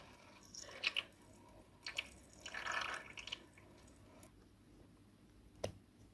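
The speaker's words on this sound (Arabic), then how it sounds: "هنبدأ بقى نضغط المية كده جوه." Water pushed from a syringe into the ink tank of a Canon Pixma printer: soft, close drips and small wet squishing sounds in short bursts, with a brief louder trickle midway and a final faint drip.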